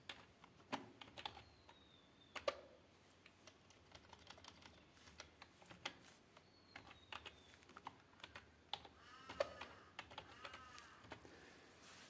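Keys on a computer keyboard are tapped in irregular, quiet bursts of clicks, with short pauses between. There is no talking over it.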